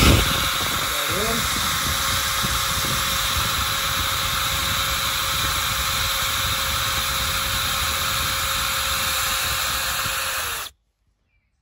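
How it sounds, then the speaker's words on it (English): A steady high-pitched whine of a power drill with a countersink bit drilling into composite deck framing, running continuously for about ten seconds, close by, then cutting off abruptly. "So we'll actually watch me drill."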